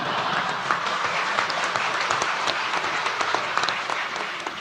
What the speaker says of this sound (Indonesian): Tolong kalau tepuk tangan jangan ragu-ragu ya.